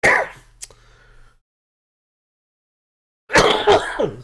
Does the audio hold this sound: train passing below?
no